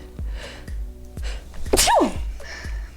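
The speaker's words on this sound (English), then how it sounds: "I'm gonna sneeze." A single sharp sneeze bursts out, close and loud, with a rising-falling squeal, against a quiet room with a few soft low thumps.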